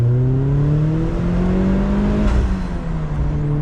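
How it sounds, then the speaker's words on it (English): A 240 hp turbocharged NC Mazda MX-5 Miata pulls hard and rises in pitch as it accelerates, loud and close, with a thin turbo whistle riding over the roar. "That turbo whistle is fan-freaking-tastic."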